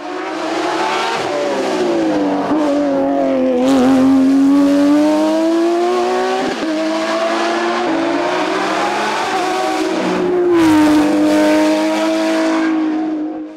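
A Porsche 997 GT3R race car climbs a hill course at Turckheim, its engine loud and close, revving hard through repeated upshifts and lifts, with rising and falling pitch and a brief squeal of tires.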